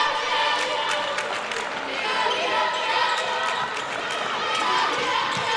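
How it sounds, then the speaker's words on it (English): Steady crowd roar at a college basketball game between Dalton State and Reinhardt fills the whole stretch, with ball bounces and sneaker noise under a continuous wash of fan voices rooting for the Eagles. "You hear the crowd trying to get behind the Eagles right now"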